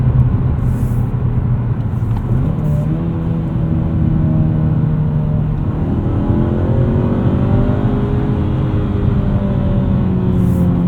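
A 2024 Mazda3 2.5 S Premium with a manual gearbox and front-wheel drive pulls hard, its engine note climbing steadily toward redline, drops with a gear change, then rises again, heard from inside the cabin with no talk.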